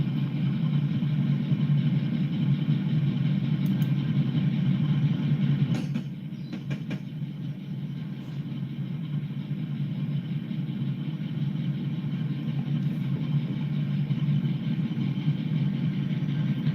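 Diesel locomotives idle in the Train Simulator 2019 video game, a steady low engine rumble and hum that continues throughout, dipping slightly in level partway through.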